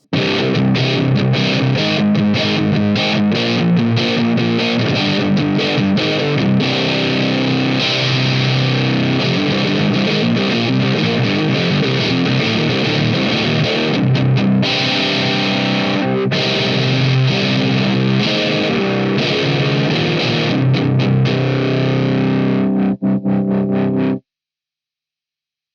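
An electric guitar through a Nux Recto distortion pedal plays continuously for about twenty-four seconds, loud and fuzzy with thick saturated chords, then cuts off abruptly.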